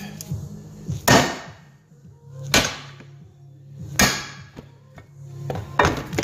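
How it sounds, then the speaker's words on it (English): A hammer strikes a chisel to snap the plastic swirl flaps off an aluminium-bodied intake manifold. Four sharp, close knocks land roughly every one and a half seconds, with a low steady hum between them. "just get your chisel, give them a smack with a hammer"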